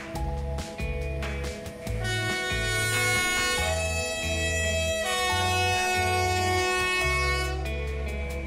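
Train horns blast in celebration as the season's last trains depart at a railway festival, with firecrackers nearby: loud, overlapping sustained horn tones that switch pitch in repeated blasts, with sharp pops scattered through them.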